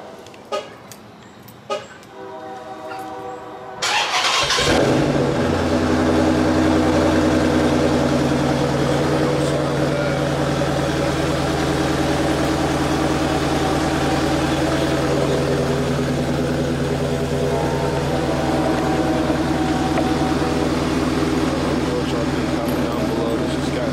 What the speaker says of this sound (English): I'll do a cold start real quick so y'all can hear the tips.